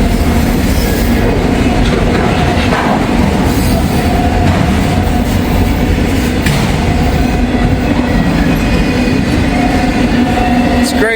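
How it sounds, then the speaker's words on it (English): A freight train rolls past with its couplers rubbing and squealing, a loud, continuous rumble of rail cars close by with faint intermittent screeches riding on top and no talking. "It's crazy listening to those couplers rub against each other like that, making all that noise."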